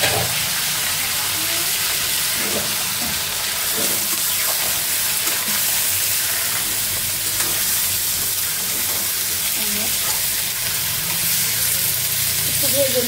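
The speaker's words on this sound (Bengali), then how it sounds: "এই যে মুরগি রান্না করতেছি, পেঁয়াজ ভাজা হয়ে গেছে, মুরগিটা দিয়ে দিচ্ছি।" Continuous sizzling and frying hiss as chicken is added to a hot pan of fried onions, with occasional stirring clinks and a voice speaking over it.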